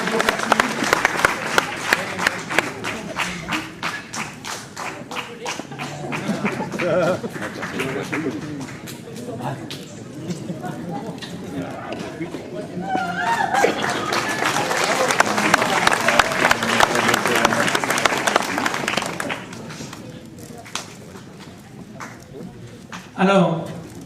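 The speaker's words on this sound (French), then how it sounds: "je crois qu'on peut l'applaudir pour le travail qu'elle fait à nos côtés aussi." An audience at a town mayor's New Year reception applauds a woman being honoured, sustained clapping swelling and fading over about twenty seconds, mixed with crowd murmur and speech.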